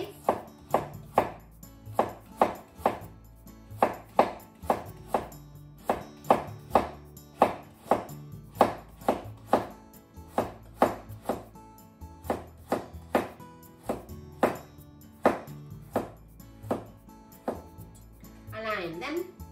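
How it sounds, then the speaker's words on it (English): A knife making very thin diagonal slices on a cutting board while preparing a spicy pork bowl: crisp, evenly spaced chops in a steady rhythm, close and distinct, repeating throughout. "Make very thin diagonal slices."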